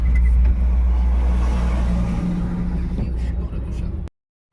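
Evening rush-hour car traffic rumbles past on a busy road, a dense steady low drone that cuts off abruptly near the end.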